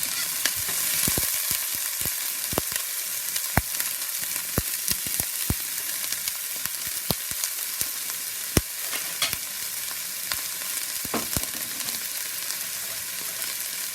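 Albacore tuna filling with onions sizzling steadily in a pan, close up, punctuated by frequent sharp clicks and scrapes of a utensil stirring against the pan, with no talking.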